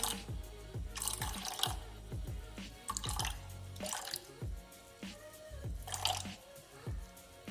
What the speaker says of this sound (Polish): ja zawsze dodaję jeszcze trochę wody, żeby było po prostu więcej tej kaszy